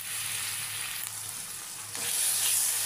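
Onions and scooped tinda seed pulp fry in a pan in a steady close sizzle that stays loud and even and grows a little brighter toward the end, with no talking.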